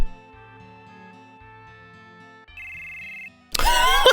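A telephone rings in Final Fantasy VII, repeated bell-like tones over quiet game music, followed by a sudden loud burst of noise at the end.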